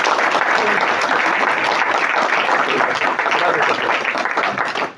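Dense, continuous audience applause fills a book presentation, many hands clapping loudly and evenly before fading slightly near the end.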